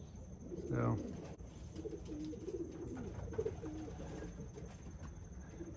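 Racing pigeons in a breeding loft give low, rolling coos, with one louder call near the start followed by a steady run of softer cooing from several birds close by.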